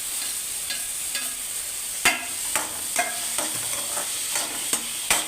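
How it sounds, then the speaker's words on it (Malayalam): Onions sautéing in a pan for chapathi noodles, a constant sizzle under repeated sharp scrapes and taps of a spatula stirring, close and clear with no talking. "ഇത് നല്ലപോലെ വഴറ്റി എടുക്കാം"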